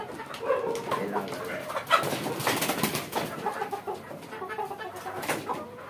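Tiger chickens on a crowded chicken farm cluck and call in overlapping bursts, with dense flock chatter and occasional louder squawks over a steady background murmur, fairly close and with no speech.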